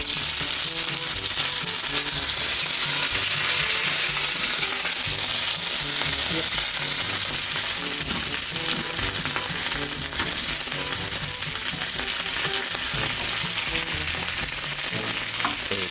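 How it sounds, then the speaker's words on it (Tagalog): Okra fries in a pan with a dense, constant sizzle and crackle that holds steady for the whole stretch, close up and without talk. "So meron pa ako niluluto na okra."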